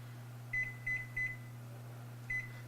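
Four short electronic beeps from a kitchen timer being set, a quick run of three then one more after a pause, faint over a steady low appliance hum.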